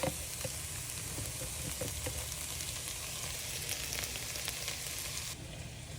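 Minced garlic sizzles with softened onions in a pan, a steady dense crackling fry at moderate loudness with faint scattered pops and occasional stirring, continuous throughout and dropping slightly near the end.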